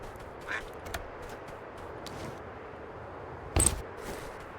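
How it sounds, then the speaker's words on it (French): A duck quacking in the video game Escape from Duckov, a few short quacks scattered among game noises, with one louder sharp burst partway through. "J'ai entendu un canard,"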